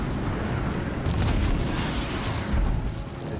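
A Serpent machine explodes in the video game Horizon, a loud, sustained, rumbling blast that swells in two waves and fills the whole clip with no talk over it.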